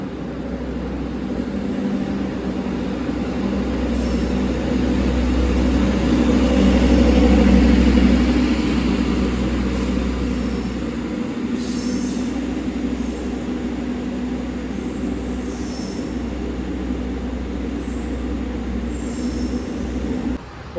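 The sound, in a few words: Pandalungan passenger train departing Surabaya Gubeng station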